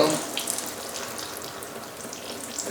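Water gushes and splashes out of the block of a Mercedes 560SL's M117 engine during a teardown, a close, steady hiss of running water with no talking.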